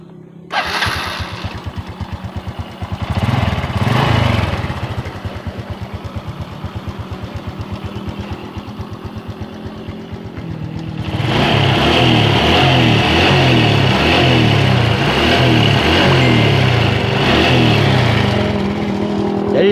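A motorcycle engine with a newly installed carburetor, intake and fuel hose sputters through a rapid starting attempt, then catches and runs steadily at a louder, even idle for the rest of the clip.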